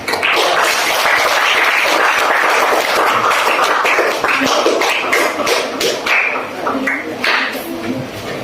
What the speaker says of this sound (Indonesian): Mari berikan tepuk tangan untuk